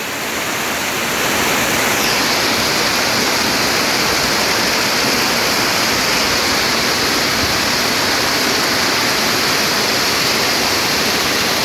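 Heavy rain pours down alongside rushing, flowing water in a loud, unbroken wash that fades in quickly and then holds steady and close, with no voices over it.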